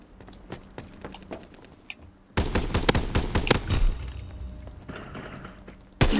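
Gunfire in a World War II shooter game, with sparse shots at first, then a loud, dense burst of rapid fire that continues with scattered shots and one final sharp blast, with no talking.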